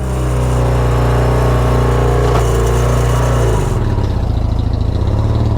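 A Yamaha XS650 motorcycle engine runs loud and close, holding a high, steady rev before dropping to a lower, rougher idle near the end.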